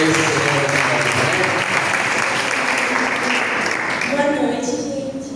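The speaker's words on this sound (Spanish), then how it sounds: "Así que la recibimos con un fuerte aplauso" A church congregation breaking into strong applause, loud and close, full and sustained before easing slightly near the end as a voice begins to come through.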